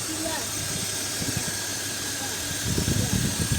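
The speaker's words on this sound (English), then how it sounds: "Oh, the fan's spinning." A 1998 BMW 528i E39 idles with a steady engine hum and the hiss of its spinning cooling fan, heard close up with the hood open, while someone talks over it.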